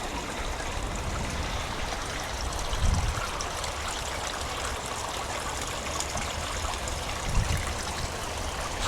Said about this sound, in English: quite relaxing sitting up here early evening, sound of the water